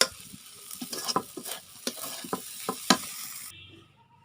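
Vermicelli being fried and stirred in a pan for bhuna semai, with a soft sizzle beneath repeated close scraping strokes before it cuts off near the end.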